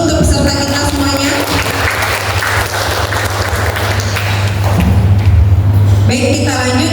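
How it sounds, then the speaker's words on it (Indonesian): An audience at a quiz competition applauds the participants with sustained, dense clapping that fills most of the stretch, with a host's voice speaking over it at the start and end. "Aplaus dulu untuk peserta kita semuanya."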